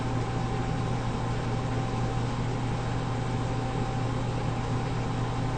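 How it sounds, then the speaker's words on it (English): A machine tank's agitator runs after a repaired malfunction, mixing and heating fluid, giving a steady, even mechanical hum with a constant low drone and a faint whine, unchanging throughout and with no voices. "we hear the agitator start, indicating that we have repaired the malfunction"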